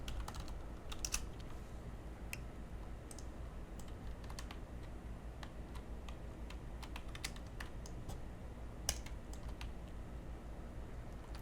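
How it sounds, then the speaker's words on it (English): Computer keyboard typed on while entering a search in the Far Cry 5 map editor, a quiet close patter of scattered individual keystrokes over a low steady background hum. "Let me type that in, irrigation."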